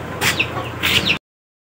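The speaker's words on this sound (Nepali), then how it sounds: "यहाँ कुखुराको चल्लाहरू छ" Chicken chicks cluck in two short, close bursts of soft peeping calls, a quick pair of little clusters before the sound cuts off.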